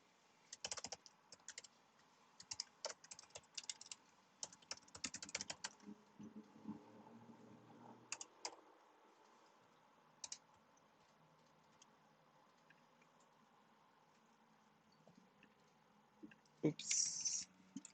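Keys clack on a computer keyboard as code is typed in a C file, in irregular bursts of soft, close taps with pauses between them and a sharper click near the end.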